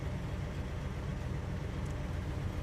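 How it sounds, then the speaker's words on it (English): A 1967 Pontiac GTO with a 400 engine idles steadily, a low, even rumble holding throughout, close and fairly loud with no talk over it. "We're idling nicely."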